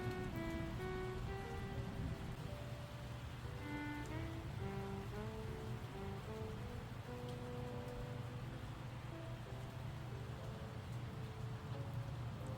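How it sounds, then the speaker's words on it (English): Steady rain falls outside at night during a thunderstorm, a soft constant patter with a faint low rumble and some quiet tonal sounds drifting in the background. "sound of the rain is so soothing."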